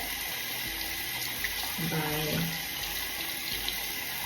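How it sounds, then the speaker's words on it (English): Water runs steadily from a tap while a brush is rinsed in lukewarm water, a continuous close hiss with a brief shift in splashing midway and a faint voice underneath. "So I am going to rinse it one final time in lukewarm water"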